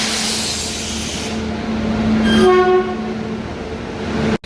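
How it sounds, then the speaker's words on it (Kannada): A train rumbles loudly into a station platform, its horn sounding a sustained, rising blast partway through over the steady roar of the wheels and carriages before the clip cuts off abruptly. "ಟ್ರೈನ್ ಬಂದಾಯ್ತು"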